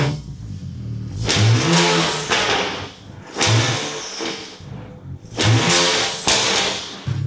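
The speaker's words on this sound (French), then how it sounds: "On va lui donner quelques coups d'accélérateur." A BMW 335xi with a raucous, unmuffled exhaust, blipped hard three times in a row; each rev surges loudly and falls back to a rough idle between the bursts.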